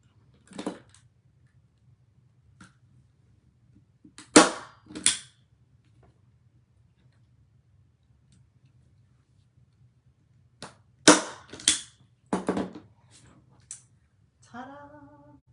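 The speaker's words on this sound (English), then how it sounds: "you're going to need a staple gun because that stuff is a little harder" A staple gun punches staples into canvas with sharp, snappy clacks in small clusters, set apart by quiet gaps, close by over a low hum.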